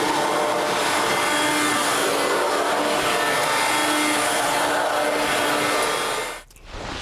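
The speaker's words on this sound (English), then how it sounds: "Then just vacuum it up." A vacuum cleaner sucks baking soda up from a closet carpet with a steady, loud whooshing roar and a faint whine, running continuously until it cuts out abruptly near the end.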